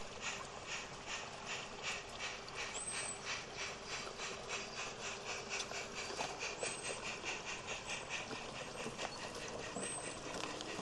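A model railway goods train pulls away on a layout, steady mechanical clatter and gear whir running continuously at moderate level with faint rhythmic wheel ticks and occasional high squeals.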